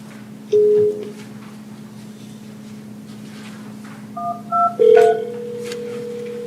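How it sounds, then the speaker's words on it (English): Telephone call placed to a coach: a short series of touch-tone dialing beeps followed by a steady ringback tone, loud and clear with little else around it. "We got to get Jim Bridge on the phone here"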